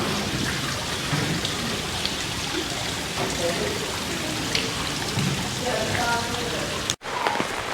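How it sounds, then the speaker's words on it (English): Water coming down a waterfall beside a mist enclosure in a Singapore garden: a dense, constant hiss and patter like heavy rain, loud and unbroken apart from one brief dropout near the end. "Beautiful crystal clear water coming down the waterfall."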